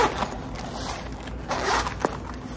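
Zipper on a gold G-Stock fanny pack in a Lululemon-style fabric being pulled open and shut, several close, raspy zipping strokes with no talk.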